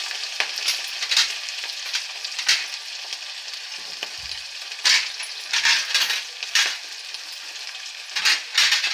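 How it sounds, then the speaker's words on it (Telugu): Green chillies and onions for tomato rice frying in a pan, a steady close sizzle with scattered sharp clinks and scrapes from stirring, with no talking. "తర్వాత పచ్చిమిర్చి వేయాలండి. తర్వాత ఆనియన్స్ వేయాలి."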